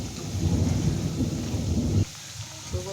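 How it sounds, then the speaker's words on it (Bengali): Heavy rain pours outside during a thunderstorm, a dense hiss with low rumbling thunder beneath, then thins abruptly to scattered drops and patter near the end. "বৃষ্টি হচ্ছে"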